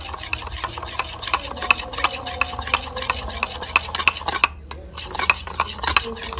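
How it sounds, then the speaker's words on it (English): Steady scraping and clinking of a utensil stirring lime smoothie ingredients with honey in a glass, with continuous rubbing and light taps throughout, close by. "you stir all the ingredients mix well"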